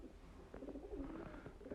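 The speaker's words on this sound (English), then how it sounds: "Oh, more pigeons. They are everywhere." Pigeons coo in a street in the old town of Częstochowa, soft repeated cooing calls a few metres away over low steady city background noise.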